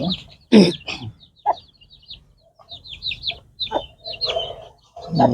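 A hen clucks near young chicks, in short bursts of sharp, squawky calls with softer chirps between them, close and fairly loud.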